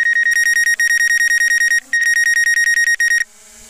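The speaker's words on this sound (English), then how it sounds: "You're beeping" Loud, close electronic beeping from a phone notification repeats in quick, evenly spaced pulses, with one brief gap, before stopping abruptly near the end.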